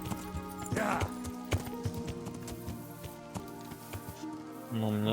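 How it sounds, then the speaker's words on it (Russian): Horse hooves clop in a rhythmic gait in the medieval video game Kingdom Come Deliverance, with gear and ambient game sounds around them, brief music near the end, and someone talking over it. "О, лошадь появилась."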